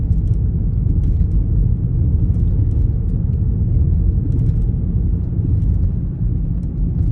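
Steady low engine rumble from a 2008 Mercedes GL550 running in limp mode with a transmission fault, loud and close, droning evenly with no talk.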